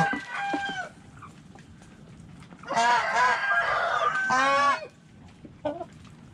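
Blue Shamo and Ga Noi chickens in a flock give several loud rooster crows and hen clucks close by, with a long drawn-out crow in the middle and quieter barnyard noise between calls.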